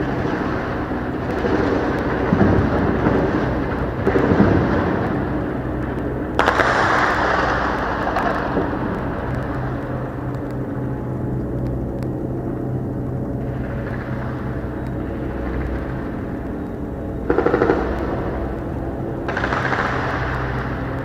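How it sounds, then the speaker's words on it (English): Gunfire in Gaza rumbles and cracks at a distance, with repeated heavy bursts and booms over a continuous low roar, loud and sustained with no voices. "You guys cannot hear me because of the shooting?"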